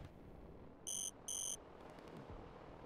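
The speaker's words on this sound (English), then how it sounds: "But the beep beep we hear is that Yan is out of energy." Two short, bright electronic beep bursts sound close together near the middle, an out-of-energy alert in the Line War strategy video game, over a steady low background hum.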